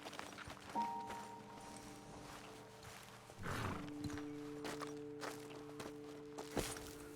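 Horses in Red Dead Redemption 2 as riders dismount, with hoof clops, shuffling steps and snorts over a low ambient outdoor hum, close and moderately loud.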